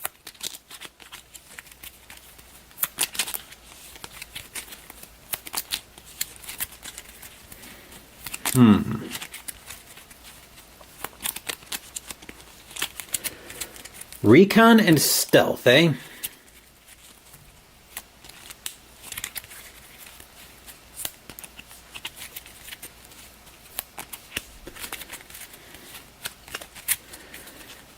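GI Joe deck-building game cards are shuffled twice in quick riffles, short crisp bursts standing out from a quiet tabletop setting while a person talks between them.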